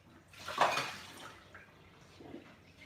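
Cauliflower is rinsed in a bowl of water, a soft swell of splashing and sloshing that fades to faint trickles, quiet and close.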